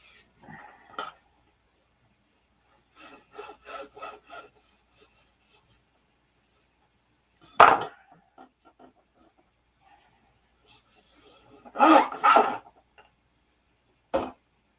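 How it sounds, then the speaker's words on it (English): Wooden parts of a Cox Cobra 1/2A model airplane are sanded in short scratchy bursts, with long quiet gaps between the strokes. "Let's leave a little big so we can sand it."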